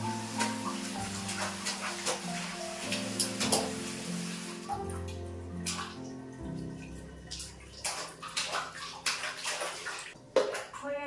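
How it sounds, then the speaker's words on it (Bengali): Water splashes and pours while a small child is bathed, with uneven splashes and trickles close by and a few sharp knocks, no one speaking. "ওকে এবার স্নান করাবো।"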